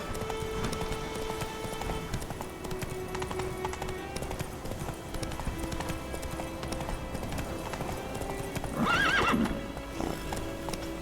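The horse Roach gallops in The Witcher 3: Wild Hunt, with steady rhythmic hoofbeats throughout and a loud neigh near the end, set against game ambience with a brief voice.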